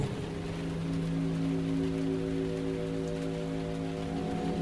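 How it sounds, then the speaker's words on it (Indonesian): Heavy rain pours steadily and densely, a constant loud hiss with a low droning hum beneath it. "di tengah gemuruhnya suara hujan"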